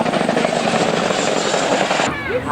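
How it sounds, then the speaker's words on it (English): A large Chinook helicopter flying, its loud steady rotor chop and engine roar filling the air until it drops away near the end, where a voice begins speaking. "despite being a large helicopter, it's still extremely manoeuvrable"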